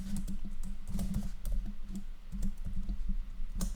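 Rapid, close typing on a computer keyboard, with irregular clusters of sharp key clicks and a steady low hum underneath, and no one talking.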